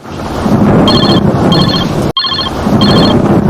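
Telephone ringing during a call: a repeating electronic trill in short pulsed bursts sounds twice, breaks off abruptly, then rings twice more over a loud, rumbling noisy background.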